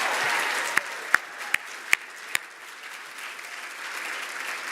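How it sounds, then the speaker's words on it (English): Audience at an awards gala applauds in a sustained, moderately distant wash of clapping, punctuated by a few sharp, louder individual claps, then tapering slightly before swelling again. "join me in one more round of applause for our incredible 2025 Military Child of the Year recipients"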